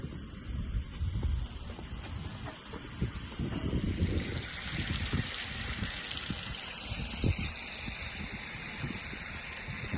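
Water line gushing into a 20,000-gallon ranch water tank, a steady rushing splash with faint trickling, moderately distant and fairly quiet, continuous throughout.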